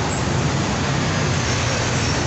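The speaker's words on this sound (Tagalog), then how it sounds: "Mabilis po ang takbo ng mga sasakyan ngayon from north to south" Fast road traffic on a busy Manila roadway by Manila Bay, a loud, dense and continuous roar of passing cars, buses and trucks with no gaps, heard up close.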